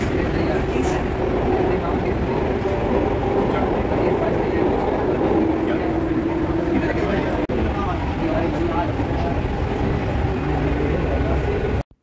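A metro train roars past in a loud, continuous rumble with rail clatter, filling the platform for several seconds while voices murmur underneath.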